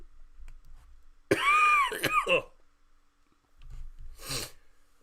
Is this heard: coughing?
yes